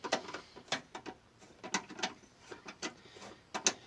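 Ratcheting clicks from a wrench loosening the 10 mm headlight bolts on a Maruti 800 car, a quick, faint series of close mechanical ticks with no talking.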